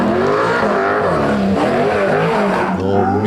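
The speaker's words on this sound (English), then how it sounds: "Sounds pretty good, doesn't it? Mick's Commodore" A Holden Commodore race car at a lakeside hillclimb roars loudly and continuously through the gears, its engine note rising and dipping as it charges close by, with no voices over it.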